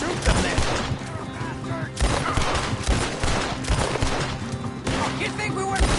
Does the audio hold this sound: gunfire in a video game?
yes